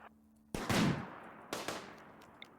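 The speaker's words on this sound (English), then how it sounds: "Oh, we're getting shot." A few gunshots in the colony game RimWorld: one sharp shot with a brief ringing tail, then a second quieter shot and a faint tick, spaced across a low background.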